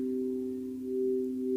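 A crystal singing bowl tuned to 432 Hz rings with a pure, steady sine-like tone, sustained and fairly quiet, alone with no other sounds.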